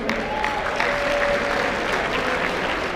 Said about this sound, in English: let's give a big round of applause to Embassy Suites.